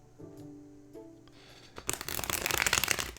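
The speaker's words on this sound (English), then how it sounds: "All right, I think I've shuffled this enough." A deck of playing cards being shuffled, a dense burst of rapid riffling flutter rising near and fairly loud after a quieter stretch of low hum and faint handling.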